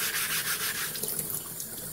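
A honing stone rubbed under running tap water, with a wet gritty scrubbing over the hiss of the flowing water, brief and close.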